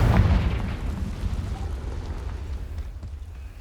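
The Confringo explosive spell in Hogwarts Legacy bursts with a loud, deep boom at the start, then rumbles and fades over a few seconds.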